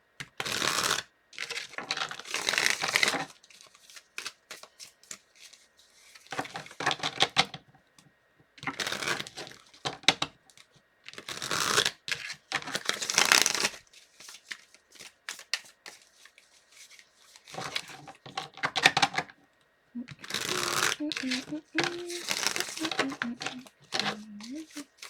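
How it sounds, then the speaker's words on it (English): Tarot cards are shuffled in repeated bursts of riffling and rustling, separated by short pauses and occasional speech. "Let's do a few more shuffles here for Scorpio."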